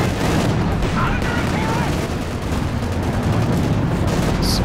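Heavy artillery barrages pound down in a Company of Heroes 2 match, with deep rumbling booms and crackling impacts rolling continuously and loudly through the scene.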